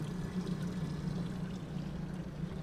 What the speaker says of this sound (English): So engines are running here just so you can hear the noise.